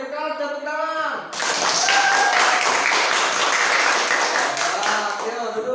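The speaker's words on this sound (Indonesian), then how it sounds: "Sekarang kita berikan tepuk tangan." A classroom group of children claps after a teacher calls for applause, a loud, fast stretch of clapping that starts abruptly after a voice speaks and carries on for several seconds.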